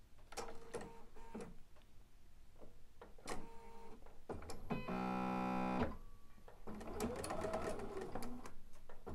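Sewing machine stitching quilt block pieces in short bursts, then a steady sustained run of rapid whirring stitches at mid-clip, followed by more stop-start sewing, moderately close and fairly quiet.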